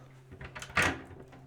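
A small storage door in a boat cabin swings shut with a short soft thud after a faint rustle, close by and quiet.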